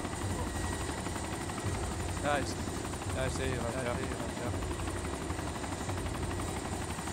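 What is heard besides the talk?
helicopters in video game DayZ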